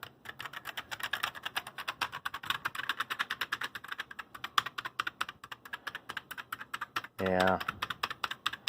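Rapid, uneven clicking of keys on a Commodore SX-64 computer keyboard under repair testing, close and steady for several seconds, with one brief spoken word near the end.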